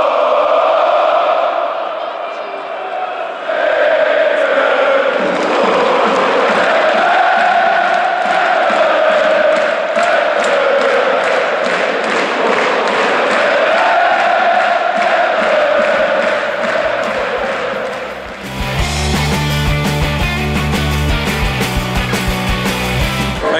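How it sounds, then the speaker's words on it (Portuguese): Football fans chanting in a stadium at a Hertha BSC vs FC Köln match, a loud sustained crowd chant with rising and falling voices, then a sudden shift to a denser, rhythmic roar near the end. "Os jogadores sentaram para assistir a torcida, né, fazendo os cantos e tudo mais"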